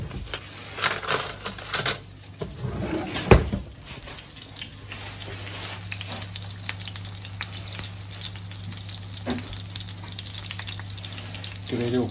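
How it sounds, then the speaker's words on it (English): Vegetables and spinach for a vegan casserole frying in a pan, with a few spoon stirs and clatters early on, then a continuous soft sizzle, no voices. "Just give it a little bit of colour. Give it a little stir."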